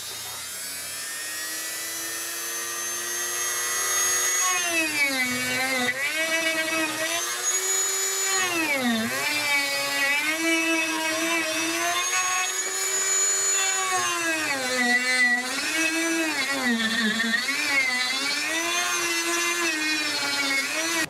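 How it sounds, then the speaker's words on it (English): A rotary tool fitted with a burr bit carves a baby alligator lure, giving a continuous high-pitched whine whose pitch dips and rises as the bit bites into the workpiece. It is close and steady with no talking. "So now I'm going to use a burr bit, and I'm going to go even deeper, but I'm going to stay away from the sides."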